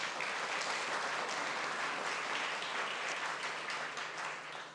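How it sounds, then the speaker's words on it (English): An audience at an awards ceremony gives a sustained round of applause, dense and even throughout, fading slightly at the end with no speech. "Can we all give them a big round of applause?"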